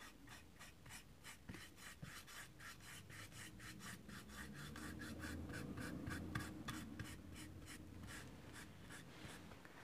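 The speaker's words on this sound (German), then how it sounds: "Da die Kreidefarbe sehr dünnflüssig ist, werde ich wohl zweimal drüber streichen" Bristles scrape in a steady back-and-forth rhythm as thin, runny chalk paint is brushed onto a small wooden box. The close rubbing strokes carry on continuously for the whole stretch, with no talking.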